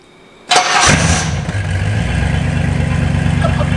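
A limousine's straight-piped engine cranks and roars to life with a loud burst, then settles into a deep, rumbling idle with a throaty pulsing exhaust.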